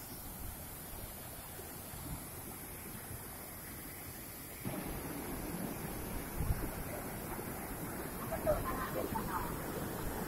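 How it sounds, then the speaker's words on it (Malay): Mengaya waterfall flows as a steady broadband wash of falling water, with the roar growing louder and fuller partway through, amid outdoor wind. "Air terjun"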